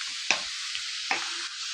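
Chicken mince with turmeric is stirred in a pan over a soft, continuous sizzle, with two distinct scraping strokes of the spoon about a second apart.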